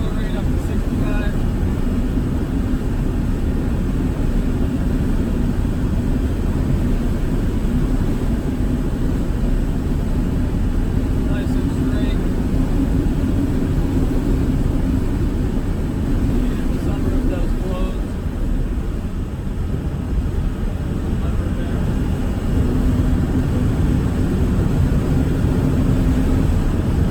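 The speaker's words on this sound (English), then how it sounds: "So we'll accelerate up to 65." A 1991 Land Rover Defender 110 with the 200tdi diesel engine accelerates in fifth gear, giving a steady, loud low drone of engine and road noise that holds for the whole stretch, with wind rush from an open sunroof and talk over it.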